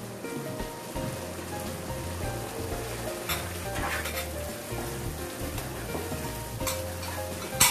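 Spices frying in a pan for a Tamil-style chicken curry give a loud, continuous crackling sizzle, stirred with repeated scraping sweeps, heard up close with no talking.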